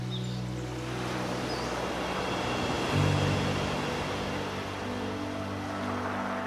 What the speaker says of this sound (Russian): тишину разбивает только тот самый звук, который ласкает местных, всю их жизнь – звук океана